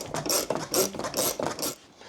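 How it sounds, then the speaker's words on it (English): A ratchet spanner undoes the transit bolts on an ASKO washing machine. Four crisp bursts of clicking ratchet come close and loud in an even rhythm, each followed by a short pause. "so I'm having to use a ratchet spanner"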